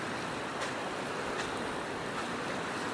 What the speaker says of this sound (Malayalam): ഈ പാലത്തിൻ്റെ താഴെ നിങ്ങൾക്ക് കാണാൻ പറ്റും ശക്തിക്ക് വെള്ളം ഒഴുകുന്നുണ്ടോ.